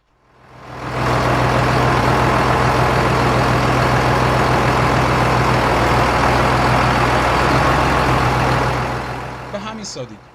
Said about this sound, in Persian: خب تراکتور ما صدا شبیه سازی شد